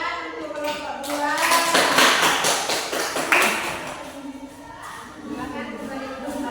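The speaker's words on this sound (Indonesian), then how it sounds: "Tepuk tangan untuk kelompok 2" A classroom of children applauds group 2 with a dense patter of clapping that swells, peaks and then tapers off, with children's voices mixed in.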